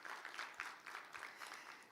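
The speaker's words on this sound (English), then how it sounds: "A round of applause for Terry." Quiet applause from a conference audience honoring a speaker at a regional health leadership dialogue, a soft continuous patter of many hands, faint and somewhat distant, with no voices over it.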